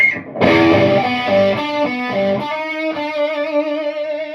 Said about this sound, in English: It's the chorus sound without it swirling.